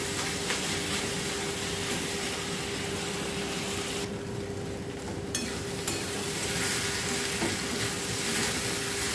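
Sweet-and-spicy snack filling cooking down in a pan until dry, a steady close sizzle with stirring scrapes and a faint constant hum, briefly dropping quieter midway before the frying noise returns.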